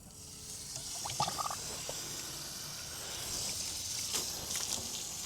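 Water hisses steadily through a two-way garden hose splitter, a continuous rushing spray with a few small clicks and knocks, heard alone without talk.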